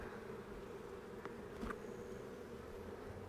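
Honey bees buzz steadily in an open queenless hive, a dense, continuous drone that stays even and close throughout, with a couple of faint clicks from handling the frames.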